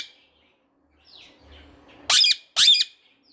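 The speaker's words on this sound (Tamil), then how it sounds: "இங்கே ஒரு குருவி கத்துதுப்பா, கியா கியா அப்படிங்குது." A sparrow gives two loud, harsh chirping calls close by, each about a quarter second long, after faint rustling and quiet background sounds in a garden with a betel vine.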